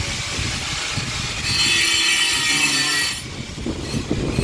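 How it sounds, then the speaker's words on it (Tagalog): Wood being sanded by hand during house construction, a steady gritty rasping that swells louder midway over a constant background of site noise, close by, with no talking. "Grabe, nililiha ni Kuya Gerson yung tawag dito yung ayan para magsasara."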